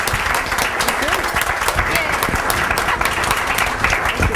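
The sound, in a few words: audience applauding the panel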